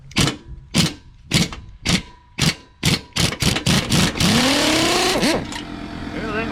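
Ratcheting or impact tool backing out bolts from a cast aluminum belt guard on a Husqvarna mower deck, a rhythmic series of sharp mechanical bursts speeding up into a sustained whirring run, close and loud.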